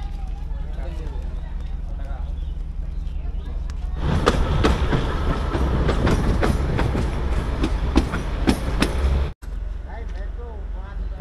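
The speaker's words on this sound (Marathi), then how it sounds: "आता ट्रेन सुटली आहे, परत पुढे जाणार, परत थांबणार" The 110-year-old Bilimora-Waghai heritage narrow gauge train sets off, a quieter idle giving way to a loud, close clattering run with rhythmic wheel knocks, while people talk throughout.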